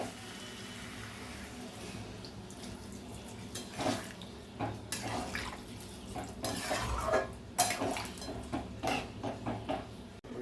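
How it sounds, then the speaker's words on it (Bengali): Water added to a pot of rice and pointed gourd, then the lid set on, giving faint clinks, knocks and splashing clatter that grow busier toward the end, with quiet background hiss. "সেই জন্য একটু জল দিয়ে দিচ্ছি। জল দিয়ে একটু ঢেকে দেব।"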